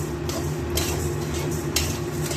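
Whole cumin and coriander seeds, more cumin than coriander, dry-roasting in a pan over low heat while being stirred. A few soft scraping strokes stand out over a quiet, steady background, with no talking.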